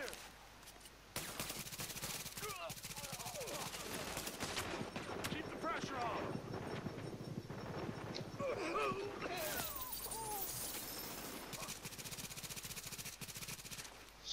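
Gunfire in Tom Clancy's The Division, a third-person shooter set in a Queens tunnel camp, with bursts of automatic shots running steadily through the clip under ongoing game noise and voices talking.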